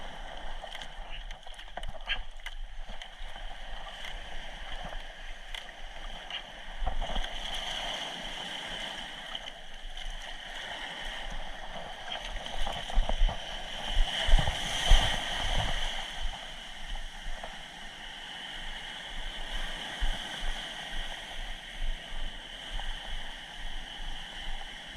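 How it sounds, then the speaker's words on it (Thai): A small boat is paddled hard toward shore through breaking surf, with oar splashes, water sloshing and gurgling against the hull, and the crash of waves rising and falling around it. "ต้องรีบจ้ำเข้าฝั่งนะต้องให้เร็วที่สุด"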